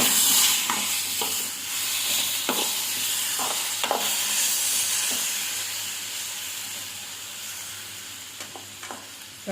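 Tomatoes stirred into ivy gourd frying in a pan, a constant loud sizzle and hiss with scattered scraping knocks from the stirring spoon, no voices.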